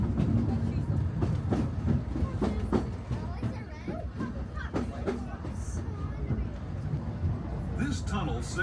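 Disneyland Railroad train rolling along its tracks on the Grand Circle Tour, a steady rumble with rhythmic clicks and clacks, heard from on board beneath chatter from a crowd and an announcer's voice.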